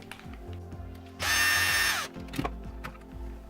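A power screwdriver undoes screws holding the shocks on a WLTOYS 144001 RC car, a close, loud whirring burst of under a second amid small clicks and handling noises.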